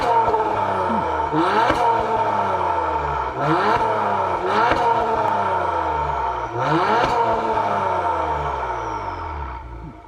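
A 2024 Acura TLX Type S with active quad exhaust fires up and revs repeatedly, each sharp blip rising and falling over a steady idle, loud and close with no talking.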